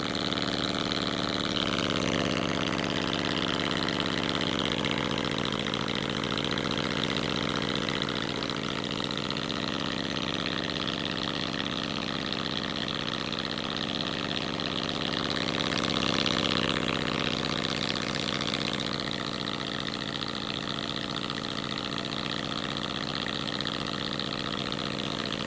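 A small model Saito T2DR twin-cylinder steam engine runs steadily, giving off an even mechanical chugging hum with a faint rhythmic ticking, close by and constant, with some air leaking out the side.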